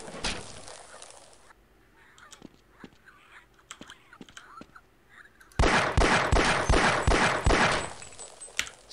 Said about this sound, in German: Sechs Schuss, weg ist er.